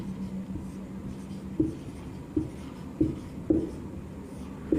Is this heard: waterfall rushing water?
no